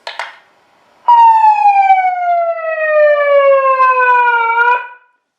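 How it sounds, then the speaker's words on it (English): A single loud siren wail that slowly falls in pitch over about four seconds, close and clear, after a short click at the start. "Megaphones have sirens on them."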